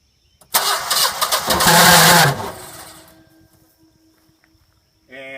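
A Generac generator engine cranks and catches, a loud burst of mechanical clatter that fades out after a couple of seconds, followed by a short voice at the end.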